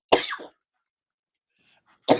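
Two short, sharp coughs, one at the start and one near the end, separated by quiet.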